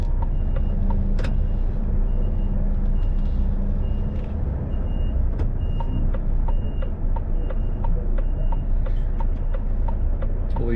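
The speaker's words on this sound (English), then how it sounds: "A lorry coming down there, looks like it." A lorry rolls along a busy road, with a steady loud engine drone and traffic roar, a repeating reversing beep and several short clatters and knocks throughout.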